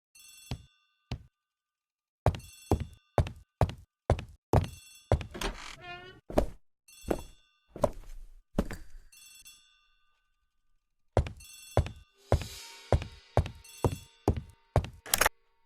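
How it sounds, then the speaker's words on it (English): An old-fashioned telephone bell rings in a house hallway, sounding in repeated bursts of sharp metallic trills with short pauses between, clear and fairly close, then stopping briefly before ringing again. "The telephone in the hall is ringing."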